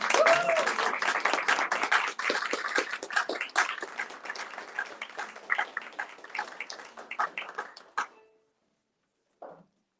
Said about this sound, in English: I'd like to introduce the Apollo Chamber Players and give them a round of applause.